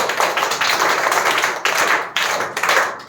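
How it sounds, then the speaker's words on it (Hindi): A class of schoolchildren claps loudly for everyone, a dense, fast patter of hands in short surging waves heard close up. "तालियां जोरदार सबके लिए।"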